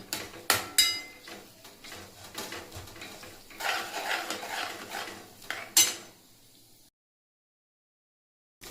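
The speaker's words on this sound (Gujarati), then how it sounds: "લીલી હળદર અને ઘીને સાંતળીશું।" Green turmeric sautéing in hot ghee in a pan, with a dense run of clinks, scrapes and stirring clatter over a soft sizzle, busy for several seconds before falling silent.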